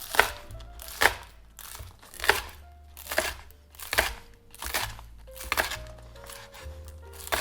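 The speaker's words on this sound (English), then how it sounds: "For garnishing, I will now cut up the green part of the spring onions." Knife chopping the green part of spring onions on a cutting board, about seven crisp, evenly spaced cuts close up, each with a short crunchy snap.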